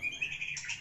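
A white-rumped shama (murai batu) giving a quick run of bright, clear chirping whistles, close and loud, under a second long.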